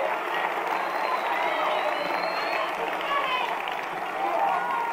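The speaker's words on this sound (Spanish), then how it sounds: "El aplauso para ellas." A large outdoor crowd at a political rally for teachers, a sustained wash of applause and cheering with shouting voices mixed in, loud and continuous throughout.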